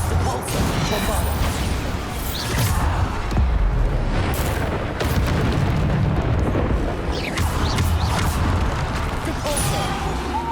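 Repeated Bombarda blasting-spell explosions from Hogwarts Legacy combat, heavy booms mixed with whooshing spell casts and crashing impacts in a busy, continuous battle soundscape.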